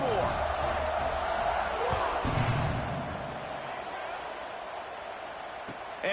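Stadium crowd buzzing in a college football video game, a broad continuous roar and murmur from the stands with occasional thumps, heard under a play-by-play voice.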